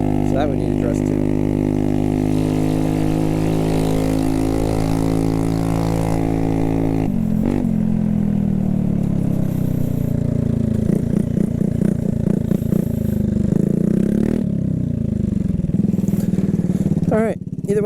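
Small motor scooter with about 25,000 miles and worn head bearings runs through a short test ride, its engine droning steadily near the microphone with shifting pitch, a clattery rough patch and a pause midway.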